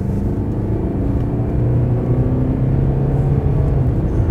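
A Mercedes-Benz E-Class diesel in sport mode accelerates, heard from inside the cabin as a deep, steady rumble with a gradually rising engine drone and no voices.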